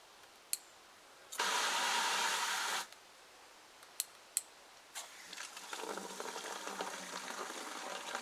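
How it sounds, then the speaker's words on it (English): Water gushes from a garden hose into a bucket in a steady rush for about a second and a half, then stops; sharp knocks and clatter follow before a softer, rising splash of water resumes toward the end. "I'll put some water in this bucket here now."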